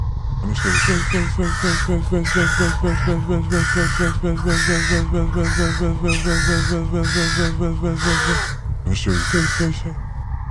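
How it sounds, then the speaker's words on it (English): Crows caw over and over in a rapid, evenly spaced series of harsh calls above a low, steady droning background, pausing briefly before one final caw. "And the crows came in."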